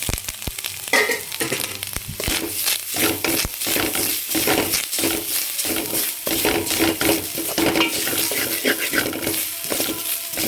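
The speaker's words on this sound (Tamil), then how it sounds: "அதில் கொஞ்சம் நெய் விட்டுக்கிட்டு அரை மூடி தேங்காய் தெரிவிருக்கேன் அதை போட்டுக்குவோம்" Grated coconut frying in ghee in a kadai, a dense crackling sizzle broken by frequent scraping stirs and spoon knocks against the pan, close and loud with no voices.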